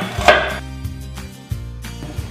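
Onion being finely chopped with a knife on a board, with a few separate close knocks of the blade spaced irregularly, alone without talk.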